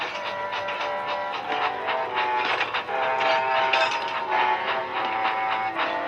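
A steam engine hauling heavy freight up a steep hill chugs and rattles steadily, close and fairly loud, with rhythmic puffing bursts and no talk.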